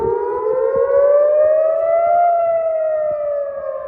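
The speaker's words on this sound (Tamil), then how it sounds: "இஸ்ரேலின் டெல் அவீவ், ஹைஃபா, ஜெருசலேம் நகரங்களில் அபாய ஒலி எச்சரித்தது." A civil-defense air raid siren wails across Israeli cities such as Tel Aviv, Haifa and Jerusalem, a loud, steady tone that rises slightly and falls back, heard alone.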